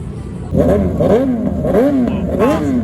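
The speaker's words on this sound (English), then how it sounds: "Fast bikes and noisy bikes is a bit of a tradition down here on the seafront at Brighton." Several motorcycles rev loudly on the Brighton seafront, their engines rising and falling in repeated throttle blips close by, with a steady rumble underneath.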